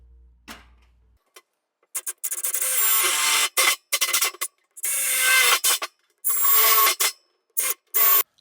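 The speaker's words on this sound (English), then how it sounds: "Then I'll grab a drill bit and just drill these holes" Bursts of a power drill whirring in short runs separated by pauses, close and loud, with grinding as the bit bites in, drilling holes in a bear bait barrel.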